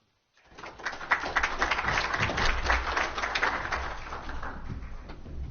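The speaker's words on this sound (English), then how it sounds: "Yeah, you can clap them again." An audience claps for the Tasmanian Army Band, steady applause starting after a short silence and holding at a moderate level.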